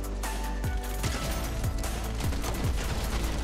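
Sniper rifle gunshots ring out in a video game: several sharp, punchy shots in quick succession over a steady bed of game noise, with no talking.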